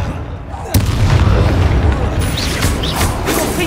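A Confringo fire spell explodes in the Hogwarts Legacy video game with a loud, sharp boom that is followed by a rumbling, crackling blast and brief voice sounds.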